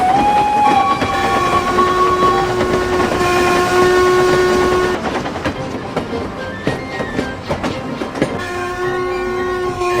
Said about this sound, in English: He thundered along with Henry's goods trains